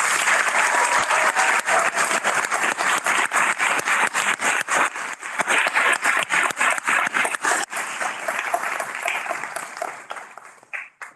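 Enthusiastic applause from the audience at a university commencement for global health undergraduates, the crowd clapping steadily and loudly before thinning out toward the end.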